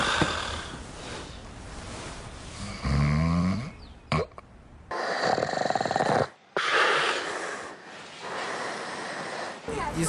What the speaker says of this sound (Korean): 심한 코골이로 밝혀졌습니다